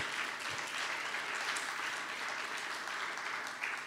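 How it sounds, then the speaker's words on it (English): Audience applause at a Halifax book launch fills the room as a steady, even wash of many hands clapping, moderately loud and sustained without anyone speaking. "Yes, that deserves a round of applause. So let's clap."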